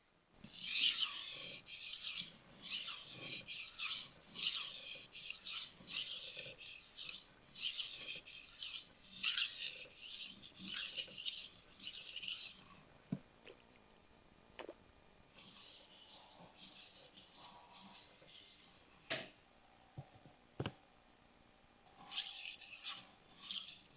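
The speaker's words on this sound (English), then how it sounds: "now, enjoy some knife sharpening ASMR" Knife blade drawn repeatedly across a KATOCUT NOWI PRO sharpener, producing close, bright rasping strokes in a steady rhythm, pausing midway before a few softer scrapes and another burst of strokes.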